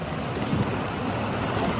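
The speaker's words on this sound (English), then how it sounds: "Raining." Rain falls steadily outside a vehicle with its window up, a dense, even wash of noise that holds constant throughout.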